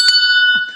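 A hand bell, a Red Kettle Challenge bell presented at a city council meeting, gives a single bright ring whose clear tones sustain and then fade, with a short murmur near the end.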